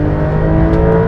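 A rear-engined Porsche 911 roars steadily at high revs during a drag race launch, a loud, close, continuous drone with strong harmonic tones as it accelerates.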